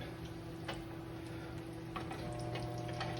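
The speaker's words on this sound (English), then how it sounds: "We got oil in a pan. It's nice and hot." Hot oil in a pan, ready for pancakes, sizzles at a low level with faint crackles and a steady hum underneath, quiet and unbroken.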